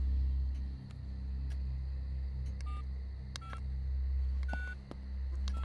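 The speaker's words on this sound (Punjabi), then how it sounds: "ਮੈਂ ਕਹਿੰਦੀ ਆ ਥਾਣੇ ਫੋਨ ਲਾ ਹੀ ਲਓ।" Telephone keypad tones from dialing a call to the police station, a short run of separate beeps over a steady low room or traffic rumble, with no talking.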